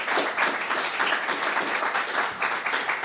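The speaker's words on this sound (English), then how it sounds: "Please, round of applause." Applause at a book launch event, a full round of steady clapping from an audience, even and sustained for about three seconds with no talking over it.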